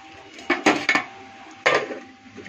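A metal lid settles onto a pot of raw fish curry with a few close clanks and clatters in a quick burst, then a final knock and a brief quiet rattle.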